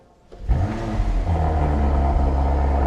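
Audi RS5 with a 639 hp engine starting from quiet into a loud, deep rumbling rev that holds steady and strong close by, no talk over it.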